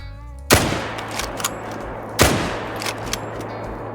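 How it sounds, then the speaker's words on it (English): Two loud, sharp .303 rifle shots ring out in the hunting game Call of the Wild, about two seconds apart, each ending in a short decaying echo above a low steady hum. "I'm gonna take a 300 meter shot with the 303 and see how it does on these moose."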